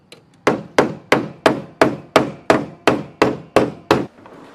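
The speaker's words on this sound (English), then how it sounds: "I'm putting a hammer in the back of the section here to flatten it out" Eleven sharp hammer blows, evenly spaced and loud, strike the back of a dented car body panel to flatten it, with a short ringing decay after each hit.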